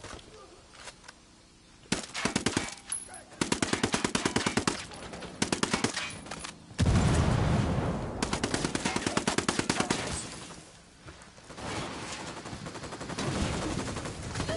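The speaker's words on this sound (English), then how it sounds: "Get to cover, move! Open fire." Gunfire in a PS4 shooter game rattles out in loud, rapid machine-gun bursts, several long volleys back to back with short gaps, with a sustained roar of shooting in the second half.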